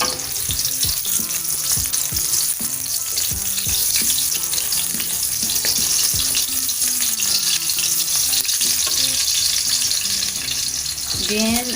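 Sliced onion frying in hot cooking oil for chicken adobo, a steady dense sizzle running the full length at close range, with scattered clinks and faint kitchen noise underneath.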